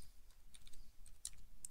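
Quiet keystrokes type a command on a computer keyboard, a soft scattering of light clicks with a couple of sharper taps, faint and close.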